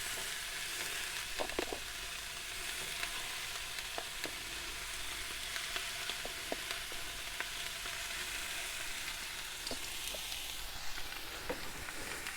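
Individually cut pork ribs brown in a hot pan as their fat renders, giving a steady, even sizzle. Occasional small pops and crackles stand out through the near, continuous frying noise.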